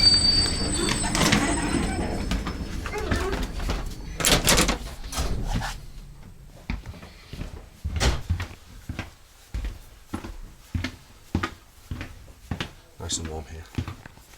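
An old passenger train runs between Ulaanbaatar and Darkhan. Talk and jostling noise fill the first seconds, then the steady rhythmic clack of wheels over rail joints repeats clearly inside the carriage.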